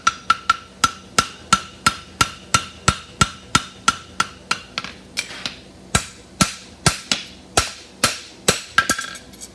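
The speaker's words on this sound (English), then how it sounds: "I'm going to hold it in, start at the heel quarter and elongate it and tighten up my fuller" Regular, ringing hammer blows strike a horseshoe heart bar on an anvil, about two per second, close and loud, pausing briefly before a final run of quicker, lighter taps.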